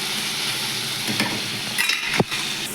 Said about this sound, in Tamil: வெங்காயம் தக்காளி நல்லா எண்ணெயில் வதங்கிட்டுருது